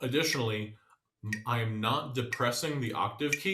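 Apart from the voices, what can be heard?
No everyday noise stands out behind the speech.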